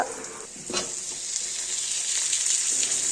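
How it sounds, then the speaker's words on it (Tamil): Onions fry with cumin seeds and dried red chillies in a pan for a South Indian egg curry, giving a steady close sizzle with a few soft scraping stir strokes, the hiss building slightly and no voices over it. "சீரகம் கொஞ்சம் போட்டுக்கிட்டு அப்புறம் வெங்காயம் போட்டு நல்லா வதக்கிக்கோங்க பொன்னிறமாக"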